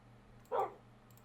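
A single short dog bark in Minecraft, fairly soft and slightly distant, standing alone against a quiet background hum.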